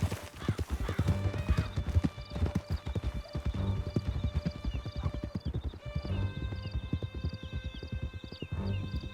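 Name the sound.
horse galloping in Red Dead Redemption 2 video game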